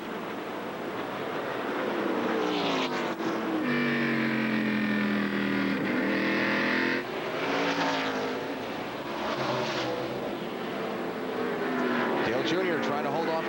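NASCAR Cup race car at Martinsville in 2003 braking and then picking the throttle back up, its engine note climbing loudly through repeated revs under a commentator's voice.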